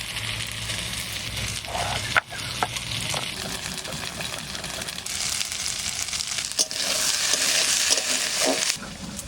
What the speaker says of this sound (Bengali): একটু কষিয়ে নিলাম